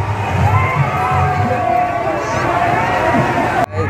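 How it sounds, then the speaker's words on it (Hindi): A dense, loud crowd at the Rajim Mela fair in Chhattisgarh during Mahashivratri 2022, steady murmur and shouting from many voices close by, with a speaker talking over the din until a sudden cut near the end. "बहुत ही ज़्यादा भीड़ है।"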